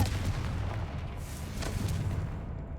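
A Confringo fire spell blast in Hogwarts Legacy, heard as a dense, booming roar of explosive rumble that carries steadily for a few seconds before thinning out at the end, with no voices.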